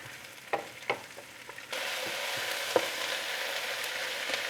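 Onions frying in a pan for Vienna goulash, a few soft clatters and stirring knocks giving way to a loud, steady close sizzle that holds to the end, with no talking.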